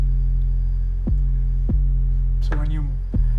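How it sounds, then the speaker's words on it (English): Sub bass sample with a low-cut filter: deep, close thumps land roughly every half second, and a brief tonal sweep slides down between the hits. "Sub basses are my favorite."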